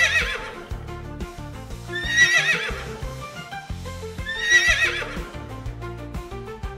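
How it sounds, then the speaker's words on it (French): A horse whinnies twice in long, wavering neighs over a rhythmic clip-clop of hooves, loud and close with no talk. "Passons maintenant à notre beau cheval qui court très vite."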